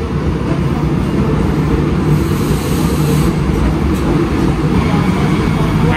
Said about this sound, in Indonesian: Ini dia KRL-nya masuk stasiun Lempuyangan.